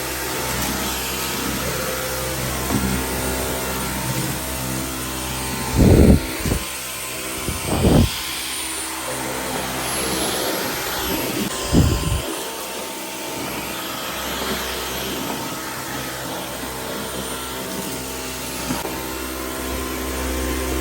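A Dyson vacuum cleaner runs continuously on carpet with a steady high-pitched motor whine and rushing airflow, close and loud, broken by a few brief thumps and knocks as the head is moved about.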